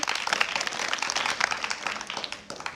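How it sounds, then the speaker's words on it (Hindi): A classroom group at a government school quiz competition breaks into quick, dense clapping for a correct answer, a steady burst of applause lasting a few seconds before tapering off. "ताली बजाइए।"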